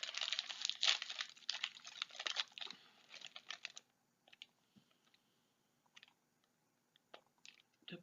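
Someone opens the wrapper of a Japanese Halloween snack up close: busy plastic crinkling for about four seconds, then quiet with a few small scattered clicks and rustles.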